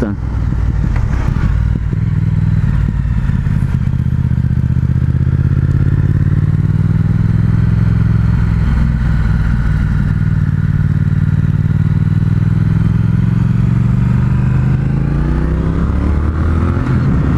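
A Triumph Speed Twin motorcycle engine roars loud and close at full throttle, a deep steady drone with the pitch rising and falling under throttle, with some rattling.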